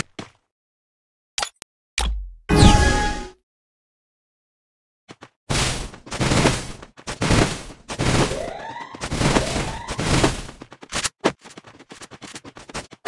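Gunfire in the mobile battle game Free Fire: sharp isolated shots early on, then a long stretch of dense, loud bursts of rapid firing with brief gaps, no talk over it.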